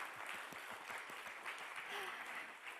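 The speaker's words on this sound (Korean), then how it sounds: "여러분 다시 한번 큰 박수 보내주시기 바랍니다" Audience applause at a lecture hall event, a brief steady wash of clapping sustained throughout at moderate level with no speech over it.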